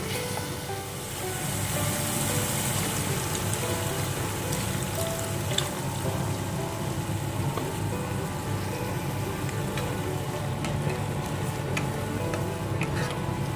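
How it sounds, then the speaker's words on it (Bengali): Warm water poured into hot oil in a pan while butter paneer cooks, giving a steady, close sizzling and bubbling that runs evenly throughout with no talking. "এবার আমি একটু উষ্ণ গরম জল দিয়ে দেবো"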